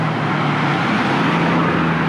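A black car passes along a road near the roadside in Phuket, producing a steady engine hum and tyre rumble that stays close and moderately loud for a couple of seconds amid general traffic noise.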